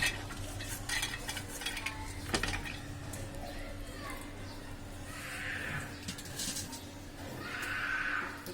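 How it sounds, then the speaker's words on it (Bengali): Soaked chana dal is tipped into a cooking pan, producing scraping and rustling bursts with a light sizzle, close up, while someone speaks over it. "এখন আমি ছোলার ডাল দিচ্ছি।"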